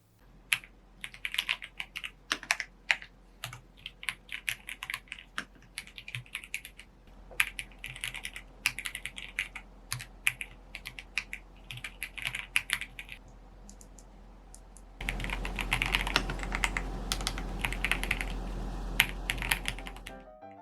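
Typing on an RK S98 full-size mechanical keyboard with a display, a rapid stream of close, crisp key clicks in uneven bursts, growing denser and louder toward the end, with no talk.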